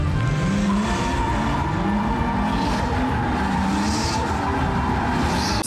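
A car performing stunts in a talent show act, engine revving and rising in pitch while tires squeal and skid in long loud stretches, close and continuous over a crowd's background din.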